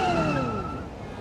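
Road traffic on the Brenner Pass through the Alps: a single vehicle sweeps past nearby, its engine and tire noise falling in pitch as it fades away.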